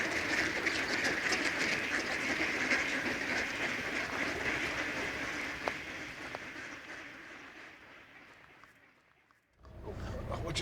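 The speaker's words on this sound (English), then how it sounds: "listening to the sound of many dozens of ducks tucking in" Many dozens of ducks feeding together at the edge of a field, a dense, continuous rustling and dabbling chatter that holds steady, fades gradually and then cuts off briefly before resuming.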